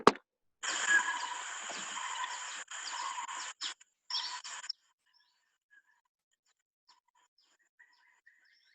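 A barbet gives a loud, sustained buzzing call in several long bursts with brief gaps, then stops, leaving faint distant chirps, in northern India.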